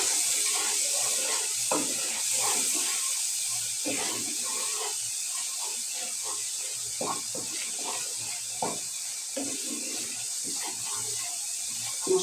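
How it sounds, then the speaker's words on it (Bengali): Masala spice paste sizzles and sputters steadily in a pan, a continuous hiss with scattered crackles and pops, close by. "মশলাটা ভালো মতো কষাই নিতে হবে"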